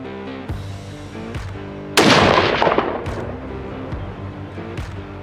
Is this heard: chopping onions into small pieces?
no